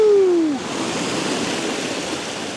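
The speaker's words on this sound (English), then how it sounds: "Some good waves coming through." Steady rushing surf washes over rocks, a broad continuous roar of water, close and loud, after a short whistling tone at the start.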